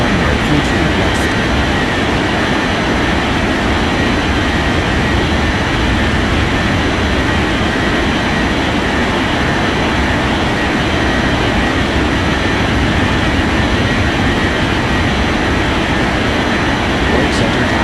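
An airliner rolls down runway 32 left for takeoff in an air traffic control video game, a loud, steady engine roar that holds without a break throughout, with a radio voice talking over it.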